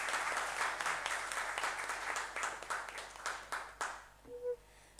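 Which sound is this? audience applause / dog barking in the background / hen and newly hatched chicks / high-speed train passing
audience applause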